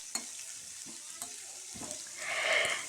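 Onions sautéing in a pan for kuzhi paniyaram, a soft frying sizzle with a few scrape and stir clicks, swelling louder and brighter toward the end; no talking.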